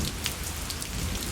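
Heavy rain pours down at night, a dense, steady hiss of drops pattering on surfaces with no voices, close and continuous throughout.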